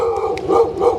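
A dog outdoors in Thailand gives a string of close, loud, howling barks, with short tonal yips rising and falling in quick succession.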